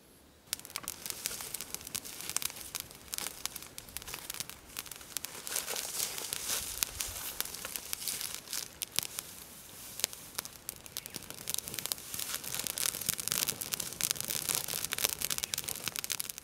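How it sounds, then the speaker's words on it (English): Country being opened up with fire crackles and pops densely for the whole stretch, close and fairly quiet, with constant snapping bursts and no voices. "I'm going to go and open up country with fire."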